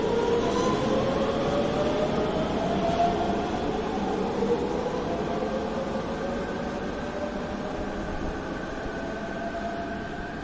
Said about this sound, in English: That was a very nice train ride.